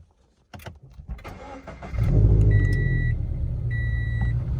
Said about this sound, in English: this is the first start in my Catless unequal length JDL headers